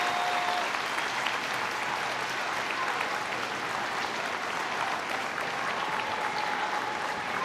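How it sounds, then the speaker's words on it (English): A big stadium crowd cheers and applauds at a Women's Super League Manchester derby, Manchester United against Manchester City, at Leigh Sports Village. The roar is loud and steady throughout, with no pause. "Fabulous noise from the crowd"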